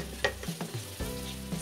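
Turmeric, coriander and red chili powders hit sautéed onion, ginger and garlic for a tinda curry, a soft close sizzle with a few quick stirring scrapes over a brief moment.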